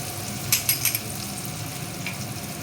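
Marathi-style masala with turmeric frying in oil for ambadi bhaji makes a close, steady sizzle, with a few spoon clinks against the pan early on.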